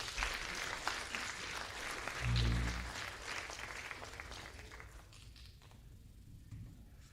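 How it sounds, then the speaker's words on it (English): Audience applause at a Kiowa County elections candidate forum, a moderate wash of clapping across the room that swells briefly and then thins out toward the end. "Let's give them all a round of applause"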